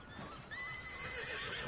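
A horse in Red Dead Redemption 2 Online lets out a whinny over faint background game noise, the shrill, wavering neigh rising and trailing off at low volume.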